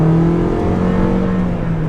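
Steady engine drone from a 2022 Toyota Corolla Cross XLE with a 2-liter naturally aspirated four-cylinder under acceleration, a continuous smooth hum heard from inside the cabin, loud and unbroken with no talking.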